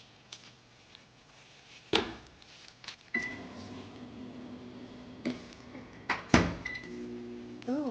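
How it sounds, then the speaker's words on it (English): A microwave oven runs while melting chocolate for cake pops, a low steady hum broken by clunks of the door and a sharp beep, all close by and with no talk. "Probably one more round in the microwave and it should be ready to go."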